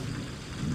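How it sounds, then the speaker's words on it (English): Rain and low thunder rumble in the video game Season: A Letter to the Future, a brief, steady wash of rainfall over a deep rolling rumble with no voices. "it's nice and rainy right now"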